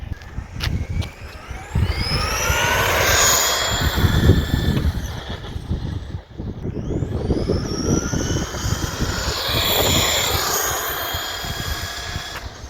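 A 1996 Team Associated T2 RC car with a Trinity motor and 15-turn quad winding on a LiPo battery makes two high-speed passes, its whine rising and falling as it approaches and recedes, loud and without talk.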